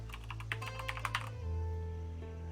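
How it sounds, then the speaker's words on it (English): Typing on a mechanical keyboard, a quick burst of crisp, clacky keystrokes for about a second, then it stops over a steady low electronic hum, quiet and close. "my typing sounds a little louder than it has in previous streams, I'm sorry. I switched over to a mechanical keyboard for the first time"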